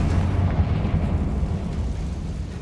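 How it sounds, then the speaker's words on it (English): Bombarda blasting spell going off in the Hogwarts Legacy video game: a dense, continuous rumbling low boom with crackling debris, loud and close, sustained without a break and with no talking. "Bombarda! Confringo!"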